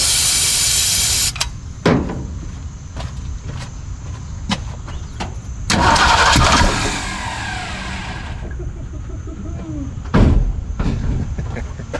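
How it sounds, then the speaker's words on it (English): A Ford 289 V8 engine is cranked in short bursts, with brief clicks and knocks between tries and a longer, rougher churning effort partway through. The sound is loud and close. "This is technically going to be the first start, even though we're just checking for signs of life."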